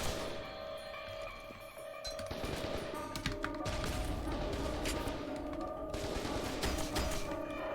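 Sustained bursts of gunfire from the first-person shooter F.E.A.R. 2, rapid and loud, running through the whole stretch with dense crackling shots and heavy impacts.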